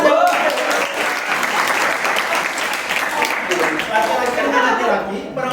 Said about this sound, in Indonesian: silakan duduk ya, tepuk tangan ya.